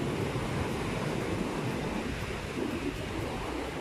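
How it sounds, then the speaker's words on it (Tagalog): Loud, continuous roar of heavy surf crashing close by at Baler, Aurora, Philippines, broad and rumbling, with wind buffeting throughout and no voices. "yung alon napakalakas, napakalaki."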